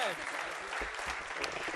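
Brief burst of audience applause greeting Nazeer Qaisar at a celebration event, fairly faint and steady, with a voice speaking over the clapping.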